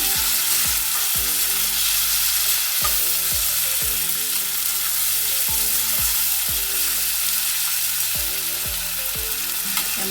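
Chopped tomatoes sizzle and fry in a hot pan for an egg and spinach curry, a steady close crackle broken by regular scraping strokes of a spoon stirring, with no voices.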